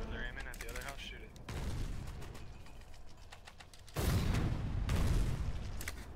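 Video game gunfire as a squad shoots at a house, with rapid bursts and overlapping shots of varying loudness and heavier, louder firing near the end, while people talk over it.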